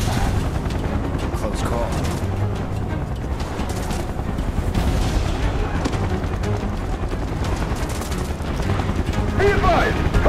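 Gunfire in the Final Fantasy VII Remake video game, dense continuous shooting and booms filling the scene, loud and close, with game dialogue voices speaking over it.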